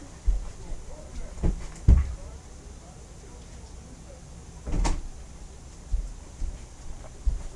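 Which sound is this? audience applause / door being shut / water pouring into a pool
door being shut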